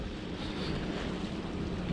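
Steady wind buffets the microphone at a stone breakwater by the sea, with a constant broadband roar and water wash and no pauses.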